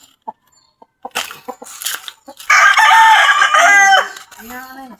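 A young gamecock crows nearby, loud and close, after some scattered clucks and short noises, with a second shorter call at the end.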